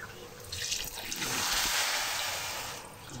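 Water pours steadily into a cooking pot for koshari, a continuous splashing rush that swells in the middle and eases off at the end.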